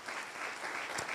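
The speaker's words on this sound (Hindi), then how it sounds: "खुदा के पाक रूह के लिए तालियां." Congregation applause for the Holy Spirit during a church sermon, a brief, fairly faint burst of many hands clapping that holds steady with one sharper clap near the end.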